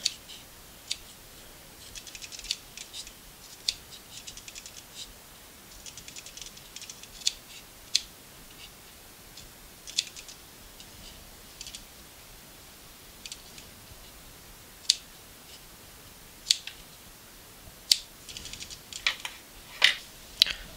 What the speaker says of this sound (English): go along the edges of that circle with your scissors